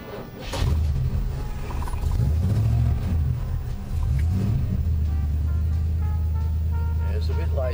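A car engine that has sat idle for a week starts and settles into a low, steady rumble close by, with a few revs early on and voices talking over it.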